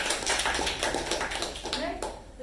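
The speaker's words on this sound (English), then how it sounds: "So a huge round of applause." A small group claps in a round of applause at a club meeting, a few distinct, spaced hand claps heard close by while a voice speaks over them.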